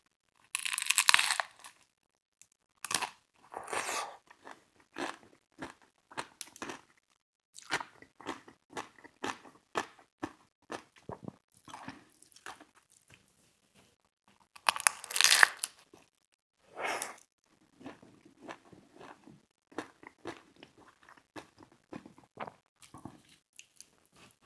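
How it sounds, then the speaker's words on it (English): A crunchy Del Taco taco being eaten, with repeated crisp bites and crackling chews up close, coming in irregular bursts separated by quiet pauses. "this is kind of like an open-faced taco, crunchy taco"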